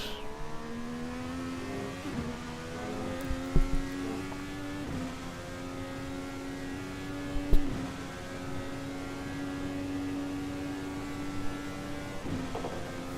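Several Indycar race cars roar around the track at Virginia International Raceway, steady harmonic engine whine with pitch shifts through gears as one car closes in to overtake, with brief louder passes near 3.5 and 7.5 seconds.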